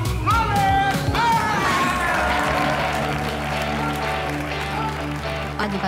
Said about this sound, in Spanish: Quiero un fuerte, pero muy fuerte aplauso para...